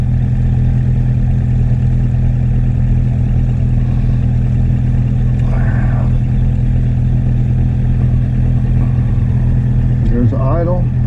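A Honda thumper single-cylinder motorcycle engine, running lean when cold, idles steadily and loudly nearby in a low, even drone, with brief voices in the background.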